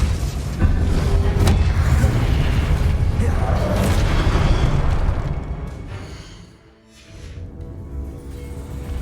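Repeated Confringo spell explosions in the Hogwarts Legacy video game, loud booming bursts over a dense, steady mix of effects and game music that dips briefly near the end.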